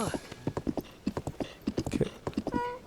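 Horse hooves clip-clop in Zelda: Tears of the Kingdom, a quick, steady run of close hoofbeats that lasts throughout, with a brief whinny-like sound near the end.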